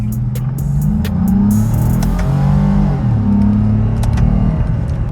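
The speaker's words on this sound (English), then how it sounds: "this car picks up pretty quick" A Lexus IS pulls hard from inside the cabin, engine droning loud and steady as it accelerates through rising gear pulls, with faint clicks on top and no talk.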